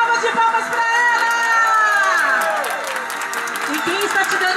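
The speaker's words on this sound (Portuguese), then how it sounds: "Uma salva de palmas para ela." A lively crowd claps and cheers continuously, with excited voices shouting and whooping over the applause.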